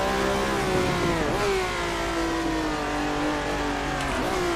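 Formula 1 car engine in the racing game Assetto Corsa screams at high revs with sharp gear-shift dips, loud and continuous, with no talking over it.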